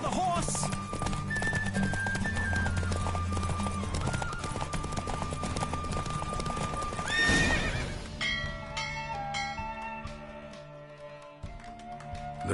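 A horse neighs and hooves clip-clop at a gallop during a horse race in The Witcher 3: Wild Hunt, over game music, with bell-like chimes ringing out in the second half.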